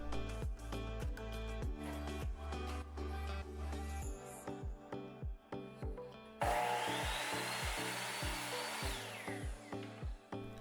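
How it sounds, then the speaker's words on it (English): A miter saw cuts through a wooden board during a DIY abstract art project, a loud continuous whine with a rising motor tone and steady rasp, punctuated by rhythmic knocks and clatter, sounding alone and close. "I went over to my miter saw and I made that first cut"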